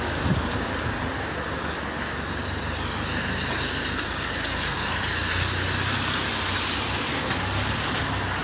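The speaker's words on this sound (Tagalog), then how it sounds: "Maulan pa rin." Steady rain falls on a Saturday in Malta, a continuous broadband hiss mixed with passing road traffic that lasts throughout, with no voices.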